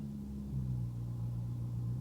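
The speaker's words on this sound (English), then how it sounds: "That is the only engine noise I'm hearing today." McLaren MP4-12C engine rumbles low as the car moves off a driveway, a brief steady mid-level growl rising slightly in pitch, heard alone.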